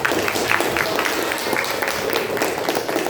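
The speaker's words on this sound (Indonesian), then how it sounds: "Kita kasih tepuk tangan untuk Mbak." A classroom of students gives a short round of applause for a classmate, busy overlapping hand claps forming a steady moderate-level patter for about three seconds.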